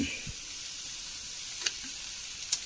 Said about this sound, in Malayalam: ഒരു സ്പൂണ് വെളിച്ചെണ്ണ വെച്ചിട്ടാണ് നമ്മളിത് വറുത്തെടുക്കുന്നത്